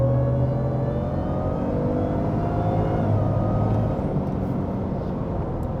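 Supercharged 700-horsepower Ford F150 pickup with an MBRP exhaust pulling out of a shop, its engine a steady, loud, close rumble that holds evenly throughout with no talking.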